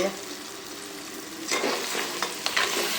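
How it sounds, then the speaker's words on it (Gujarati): Bitter gourd (karela) curry frying in a pan gives a steady sizzle, broken from about halfway by several sharper scraping stirs, heard close and alone. "ચાલો મિક્સ કરી નાખો પછી બતાવું તમને."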